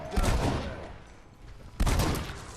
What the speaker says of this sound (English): It's good to have the semi-auto shotgun.